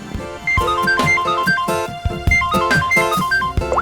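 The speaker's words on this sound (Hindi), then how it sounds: "किसका फोन है?" A melodic electronic ringtone plays loudly and repeatedly, a bright looping tune cycling several times with no talking over it.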